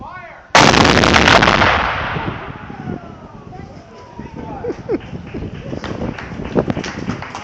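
A historic cannon at Fort Pulaski fires one huge, sudden blast that booms and rolls off slowly, followed by crowd chatter and excited voices.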